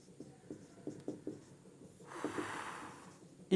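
Chalk or marker scratches across a board in a physics lecture, several short rhythmic strokes followed by a longer rubbing scrawl, close and fairly quiet with no talk.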